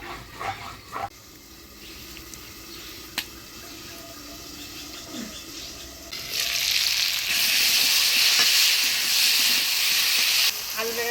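Potato and vegetable stems with turmeric, salt and ginger paste fry in a covered pan, a faint crackle at first that swells into a loud, steady hissing sizzle for the last few seconds.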